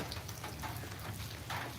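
Rain falls steadily and softly, a faint, even patter and hiss with no voices over it.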